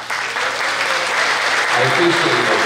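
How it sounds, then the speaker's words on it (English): Big round of applause for veterans at a Veterans Day dinner social in North Reading, steady dense clapping from a large room throughout, with a few voices mixed in. "Thank all the veterans here today with a big round of applause to all of you."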